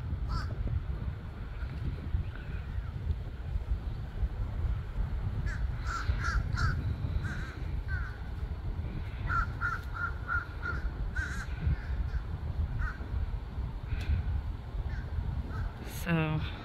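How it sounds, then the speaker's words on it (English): Crows caw repeatedly outdoors near a honey bee hive setup, harsh calls in short clustered bursts over steady wind and low rumbling background noise, with a person talking in between. "My crows are calling me."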